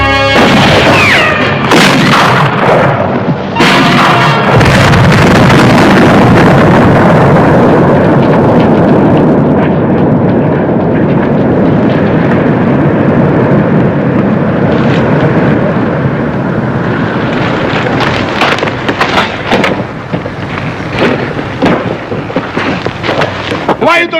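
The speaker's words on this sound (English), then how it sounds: "Those men tried to blow up my mill." An explosion set off at a stamp mill in the Old West, a loud sustained boom and rumble that fills several seconds before fading into debris and scattered noise, with voices coming in near the end.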